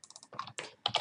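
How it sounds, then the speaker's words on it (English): Quick keystrokes tap on a computer keyboard while object labels are typed into 3D modelling software. The clicks are close and fall in short uneven bursts, with no talking over them. "I'm going to label them by double clicking and just typing mattress"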